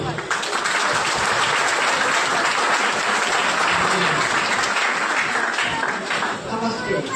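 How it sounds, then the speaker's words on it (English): A school audience at the SN CBSE school in Birpur, Bihar, gives a sustained, loud round of applause for Professor Isaac Curry, dense clapping filling the whole stretch evenly from start to finish. "Please welcome him with a big round of applause."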